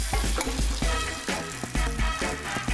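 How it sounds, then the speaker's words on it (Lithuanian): Beaten eggs for an omelette hit a buttered hot pan and fry with a loud, continuous sizzle, broken by stirring scrapes across the pan, no voices. "Pilame mūsų kiaušinio plakinę."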